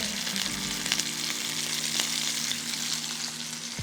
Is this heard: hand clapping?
no